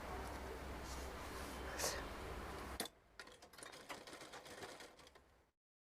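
A domestic sewing machine stitches the turned collar of a kurta for a five- to six-year-old boy, running in a loud, steady whirr that breaks off near the middle and resumes more faintly with ticking needle clicks.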